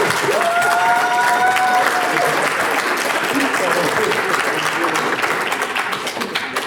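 Audience applause at a French stand-up comedy open-stage show, steady dense clapping from a crowd with some cheering, loud and sustained throughout with a brief tonal whistle near the start.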